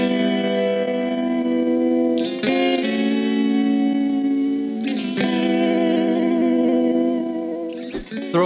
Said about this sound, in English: let's turn on the Sketch Cassette, and you're gonna hear that slight pitch bending,